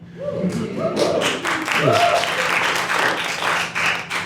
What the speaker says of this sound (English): You hear those 7 claps?